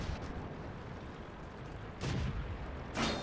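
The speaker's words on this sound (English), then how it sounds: "somebody's shooting at me and I don't want to take too many chances" Tank gunfire in World of Tanks comes as two distant booming shots about a second apart, rising briefly over a low rumbling battlefield background.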